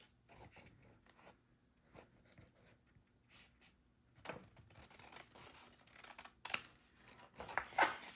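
Scissors cutting through a folded paper sheet for an envelope, heard as quiet, intermittent crisp snips and paper rustles that grow a little louder toward the end.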